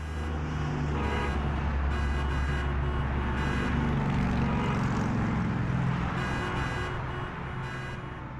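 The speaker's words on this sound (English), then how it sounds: "as those cars stream by" Cars streaming by on a road, a continuous loud engine drone and tire rumble with horn-like tonal bursts coming and going as vehicles pass close.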